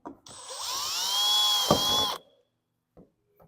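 A power drill bores a pilot hole through an aluminium roof-top tent panel, a close whine lasting about two seconds that rises slightly in pitch under load, followed by a few soft knocks.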